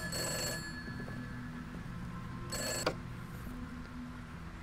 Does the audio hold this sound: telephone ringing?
yes